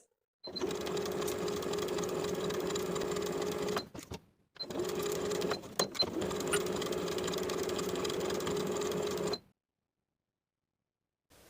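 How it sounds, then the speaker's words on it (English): A sewing machine runs in long steady bursts, stitching finishing seams and basting along the outer edges of a fabric pocket, with a brief pause midway and a short stop before resuming, loud and close. "I'm going to sew along my finishing stitches and baste along the outer edges"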